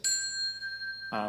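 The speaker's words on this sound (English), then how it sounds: "We have a set of Schulmerich silver melody bells that look and sound like this." A single bright strike on a Schulmerich silver melody bell rings out with clear high tones that sustain steadily, followed by a brief burst of another sound at the end.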